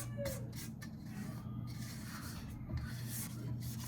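A spatula scrapes down the sides of a bowl of lemon-lime 7-Up pound cake batter, making faint, soft rubbing strokes over a steady low hum.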